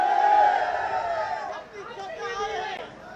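A large crowd at a political rally murmurs and chatters in a dense, continuous babble, with overlapping voices rising and falling throughout.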